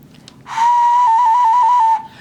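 A homemade clay ocarina whistle sounds one steady, clear, loud note held for about a second and a half, with a slight warble in the middle, after a soft breathy lead-in.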